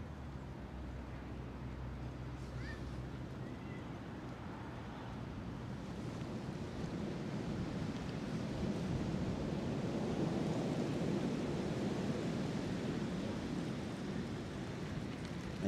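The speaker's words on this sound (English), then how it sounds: "it is quite windy here in Brooklyn today" Wind gusting through the Brooklyn Botanical Garden, a broad rushing roar with microphone buffeting that builds louder midway and stays strong, with no talk.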